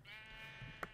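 Single sheep bleat in the Minecraft video game, a faint wavering call lasting most of the moment, ending with a brief click, with no talk.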